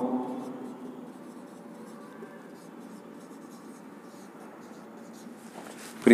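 A pen scratches across paper while a maths problem is written out in a tutoring lesson, soft close scribbling strokes with faint murmuring speech over it.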